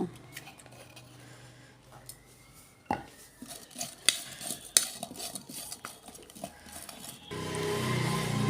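A spoon stirs and mixes jujube with salt, coriander leaves and crushed dried chili in a bowl, producing irregular scraping and clinking with a few sharp knocks, followed by a louder continuous rushing noise at the end.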